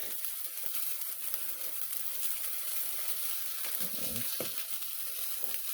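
Scrambled eggs frying in a pan for a sandwich give off a steady, even sizzle with a faint crackle throughout, plus a brief scrape or stir partway through and no voices.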